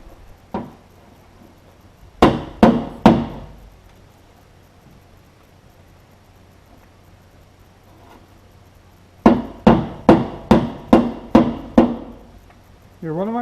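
Dented steel rear fender from a 1946 Chevy being reshaped over a dolly: a close, sharp cluster of three metallic blows, a long pause, then a rapid run of about six ringing strikes.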